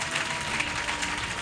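Church congregation applauding, dense continuous clapping from a crowd filling the room, loud and steady for the whole moment.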